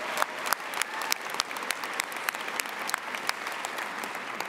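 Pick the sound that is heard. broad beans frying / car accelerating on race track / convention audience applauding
convention audience applauding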